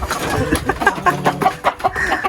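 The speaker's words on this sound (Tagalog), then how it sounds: "Manok ni Krishna, pangsabong." Close, busy clucking from a fighting rooster, short repeated calls in an uneven rhythm with some rustling underneath.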